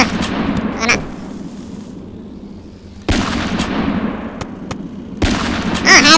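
Shotgun blasts in the Roblox video game, three loud booming shots spaced a couple of seconds apart, each with a fading tail, up close with game sounds around them.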